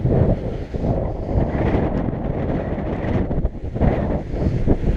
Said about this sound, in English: And it's such a strong wind.